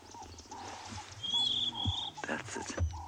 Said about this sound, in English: There's a very special bird here. Just listen.